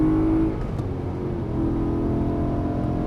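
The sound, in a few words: BMW M3 E92 V8 accelerating on a circuit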